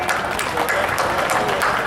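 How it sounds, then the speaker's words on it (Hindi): Loud crowd applause at an International Women's Day gathering in Sujangarh, a short, dense burst of many hands clapping together, with voices mixed in. "हम सब एक बार अमृता जी चौधरी के लिए जोरदार तालियां बजा दें"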